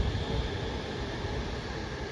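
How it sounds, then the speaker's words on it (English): A train rumbles into a station on a cross-city line, a steady broad low roar with a faint high whine, continuous and fairly loud throughout with no talking. "here comes my train"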